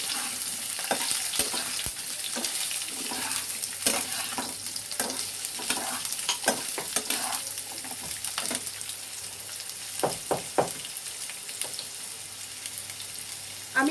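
Potatoes stirred slowly in hot oil in a pan for a vegetarian papad dish, with a steady sizzle and repeated scraping, clinking stirs, fairly close and with no talk.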